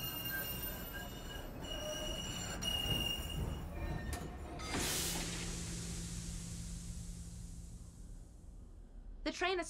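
A steam train slowing to a halt in the video game Murder in the Alps, with loud wheel and brake squeal, a burst of hissing steam, then a fading low rumble as it settles.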